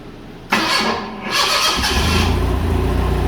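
A car engine cranks briefly and catches, then settles into a loud, steady idle close by, with no talking.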